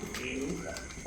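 Lahori pigeon cooing close by, a soft continuous throaty coo lasting about a second, with faint background chatter.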